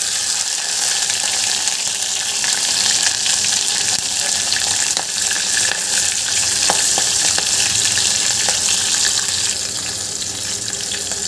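Green chilies and whole spices fry in a pan for pea masale bhat, giving a loud, steady, dense sizzle with faint stirring scrapes throughout, no voices.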